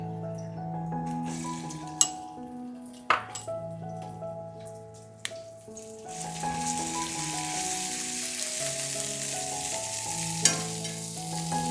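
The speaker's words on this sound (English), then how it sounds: "2 tablespoons of regular cooking oil into a medium heat pan. In with the rest of our garlic." Garlic sizzles in two tablespoons of regular cooking oil in a pan over medium heat for a shrimp and celery stir fry, with a steady frying hiss, occasional utensil clinks and tonal music in the background.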